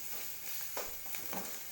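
Homemade spice powders frying in a pan for a dry prawn fry, a soft continuous sizzle with a few light stirring scrapes, quiet and close, no talk.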